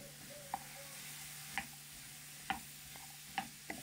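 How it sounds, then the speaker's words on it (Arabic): Apples stirred in sizzling ghee in a pan, with a soft steady sizzle beneath sharp metallic spoon knocks against the pan at roughly one-second intervals, fairly close and quiet. "وبظل نقلب فيه لما ياخذ لون ويستوي"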